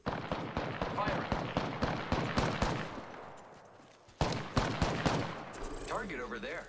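Video game gunfire crackles in rapid, sharp bursts of shots, pausing briefly before another volley resumes, loud and close, with a voice speaking under the action.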